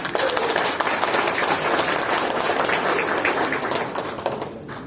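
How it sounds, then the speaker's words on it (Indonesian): An audience at the opening of a national seminar at a Muhammadiyah university in Tangerang claps in dense, sustained applause that fills the hall and gradually tapers off. "Tepuk tangan buat Anda semua."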